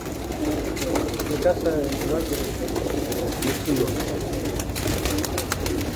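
Pigeons cooing on a rooftop, soft repeated low coos in an uneven rhythm close by, with people talking underneath.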